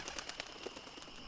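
Birds calling in the Secret of Monkey Island video game, a short run of soft repeated chirps and coos with flutter, faint and steady throughout.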